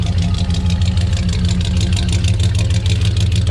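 A truck engine idles steadily after its exhaust leak was repaired, a loud, even low rumble with a constant throb and no pauses, close by and with no one talking.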